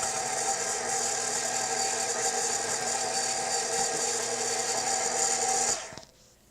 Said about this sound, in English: I prefer to use my KitchenAid Professional 600.